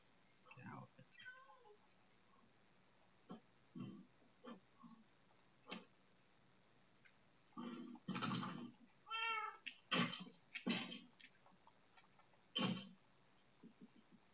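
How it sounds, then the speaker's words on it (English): Cat meowing in modded Minecraft, a series of short separate game meows and squeals scattered across the stretch, some louder bursts in the middle, with quiet talk and other game sounds around them. "Why can't I hit the cat?"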